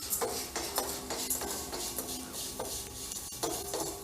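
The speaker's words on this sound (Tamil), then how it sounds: "அதே நெய்யில் எவ்வளோ அவல் எடுக்கிறீங்களோ பாயசத்துக்கு அதை அப்படியே போட்டு நெய்யில் பரட்டிடுங்க" Flattened rice (aval) being stirred and roasted in ghee in a pan, with a spatula scraping the pan in a steady rhythm of repeated strokes and light sizzling underneath, close and moderately loud, with no talk.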